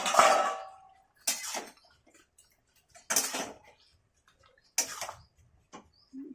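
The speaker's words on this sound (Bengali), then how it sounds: "এবার ঢাকনাটা তুলি।" A metal lid comes off a cooking pot of simmering Bengali vegetable curry, a few sharp clanks and scrapes separated by short pauses in a quiet kitchen.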